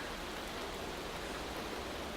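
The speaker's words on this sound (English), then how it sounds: "We got some rain." Steady rain in the Motorsport Manager racing game at the Tondela circuit, a dense, even hiss of falling water that holds constant throughout at moderate level with no voices.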